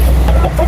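Brooding hens clucking softly, a brief low close-up sound over a steady hum.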